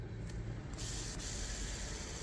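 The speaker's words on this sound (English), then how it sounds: "it's not a very quiet fidget spinner, I'll tell you that" A fidget spinner whirs steadily as it spins, giving a continuous, fairly loud airy hiss that holds for a couple of seconds with no talking over it.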